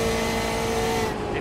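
Race cars in a sim racing game, GTE-class cars at a sprint series round, heard from an off-board trackside view, hold a steady loud engine drone with a sustained tonal whine throughout, no talking.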